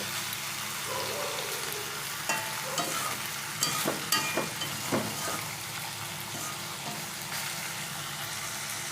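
Kochur loti (taro stolons) with amudi fish sautéing in a pan, a steady low sizzle with a cluster of spatula scrapes and knocks in the middle, close and even in level, with no talking.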